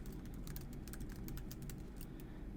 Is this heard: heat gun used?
no